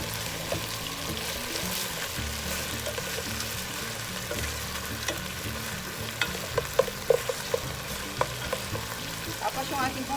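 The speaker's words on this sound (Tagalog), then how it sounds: "Haluin lang po natin konti." Chicken pochero being stirred in a cooking pot over heat, with a low simmering sizzle under repeated scraping and clacking of a spoon against the pot, growing busier toward the end.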